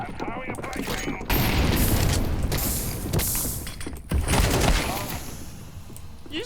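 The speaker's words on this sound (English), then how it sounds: "I'm throwing a flashbang." A thrown flashbang grenade in Counter-Strike 2, a sudden loud blast followed by a second burst amid gunfire and clattering game mechanics, with players talking over the action.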